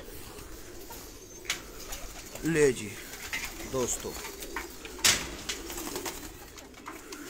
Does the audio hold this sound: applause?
no